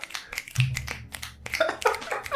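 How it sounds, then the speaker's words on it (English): Several sharp finger snaps come close up in an irregular rhythm, spaced apart with short pauses and a low hum underneath. "We do finger snaps here."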